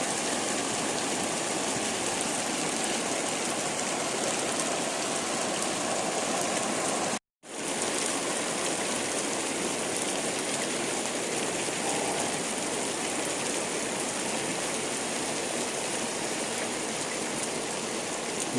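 Steady rain falling outdoors in a forest setting, a dense continuous hiss of drops with one brief dropout partway through, loud and unbroken with no voices.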